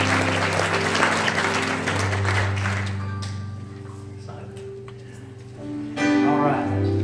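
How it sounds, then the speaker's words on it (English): A church congregation at a Sunday morning service claps in praise, the applause strong at first and thinning out. Sustained tones from an organ or keyboard hum underneath, and the clapping swells again briefly near the end. "Can we give him a hand clap of praise?"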